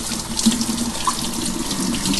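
Water runs steadily from a kitchen faucet over slices of salty dried beef being rinsed, a continuous splashing stream close by with small shifts as the slices are moved.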